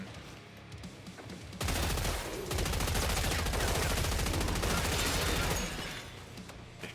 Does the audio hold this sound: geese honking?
no